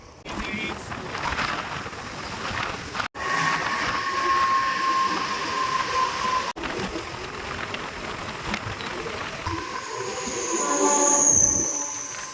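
Rumbling train at Kharghar railway station, rolling steadily with some metallic squeal and a brief horn-like tone, busy and fairly loud throughout.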